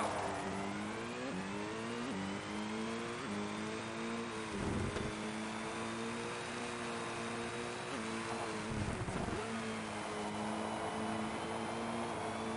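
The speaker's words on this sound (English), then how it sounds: "I wasn't too keen on some of the car noises in this game" Rally car engine in Colin McRae Rally, revving steadily with rising pitch through repeated gear changes, loud and continuous with brief dips between shifts.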